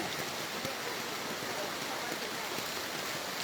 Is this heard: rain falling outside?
yes